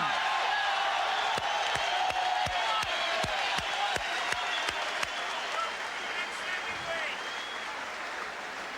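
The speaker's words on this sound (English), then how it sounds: "The crowd chanting the next heavyweight champion, Mike Tyson." A boxing arena crowd roars and applauds for Mike Tyson during his first heavyweight year, a dense, sustained wash of cheering and clapping with sharp accents, while talk carries on over it.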